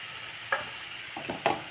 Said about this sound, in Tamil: தேங்காய் பூ சேர்த்துட்டு நல்லா ஒரு கிளறிட்டு